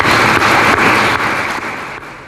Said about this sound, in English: Let's give the county employees a round of applause